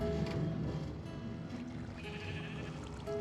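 Several sheep in a video game sheep room bleating in short overlapping calls, close and fairly clear over a low background hum, with no talk.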